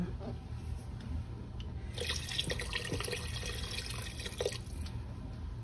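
Tap water runs steadily while rice is washed in a kitchen sink for a red chicken kabsa, a continuous mid-level splashing rush that grows fuller midway, with faint kitchen background.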